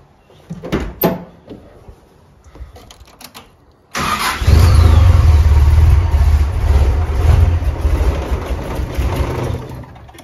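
A few clicks and clunks, then a car engine cranks and catches loudly, settling into a rough, uneven idle that keeps stumbling and missing despite a new cap, rotor, leads and coil.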